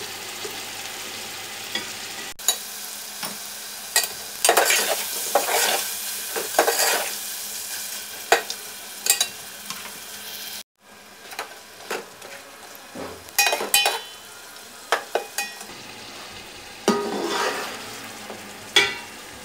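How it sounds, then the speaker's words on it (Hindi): Chicken frying over a high flame for pulao biryani, a loud steady sizzle broken by repeated scraping and clinking of a spoon stirring in the pan, with no talking. "हाई फ्लेम पे हमने इसको फ्राई करना है।"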